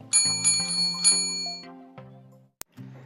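A bright ringing bell effect chimes several times in quick succession with sustained tones, followed by a sharp click and a shorter ring, loud and alone.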